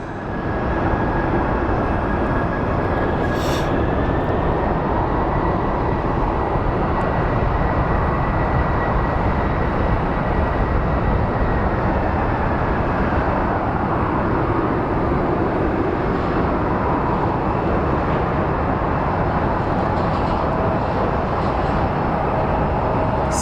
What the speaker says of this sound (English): Second to last plane, ladies and gentlemen. It's a UPS MD-11.